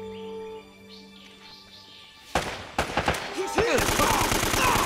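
Gunfire in Uncharted: Drake's Fortune, a few sharp single shots breaking out of a quieter stretch and then a fast, loud machine-gun burst with rapid evenly spaced rounds, with a voice briefly heard alongside.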